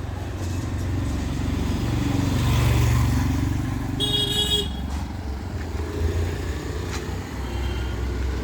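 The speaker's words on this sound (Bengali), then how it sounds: "দেখেন কেমন লাগে, বাইক টাইক সবই যাচ্ছে" Motorcycles and cars pass steadily along a busy city road near a river with buildings under construction, a continuous low engine rumble with a short honking horn partway through.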